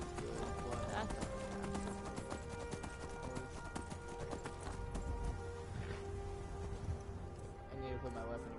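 Horse hooves clip-clopping in the video game Skyrim with mods, a steady rapid beat running throughout beneath dense game sound, with an occasional whinny-like tone.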